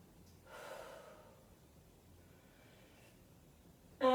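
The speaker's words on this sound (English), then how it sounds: "Take a couple of big deep breaths here." A single deep, breathy inhale during a Pilates stretch, soft and close, followed by a slow, quieter exhale against a hushed room.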